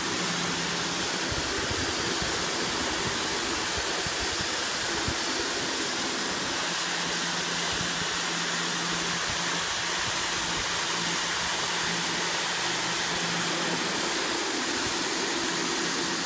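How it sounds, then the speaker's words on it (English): Karcher HD 2.3/15 C 120-volt electric pressure washer spraying a curb, a loud, continuous broadband hiss and roar with a steady motor drone underneath, running unbroken throughout. "And that's pretty dang good for a 120 volt pressure washer."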